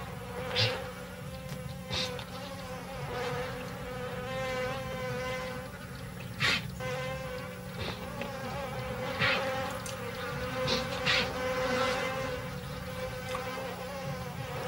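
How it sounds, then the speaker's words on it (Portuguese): African bees swarm in the savanna around lions in search of moisture, a dense steady buzzing drone with individual bees whining past close by, constant and moderately loud without any talk. "As abelhas africanas, como todo o resto, estão desesperadas por sustento."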